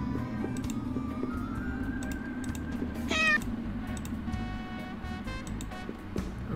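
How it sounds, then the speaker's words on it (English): A cartoon cat meows in the adventure game Darkestville Castle, a short rising cry set over steady background game music. "Meow indeed."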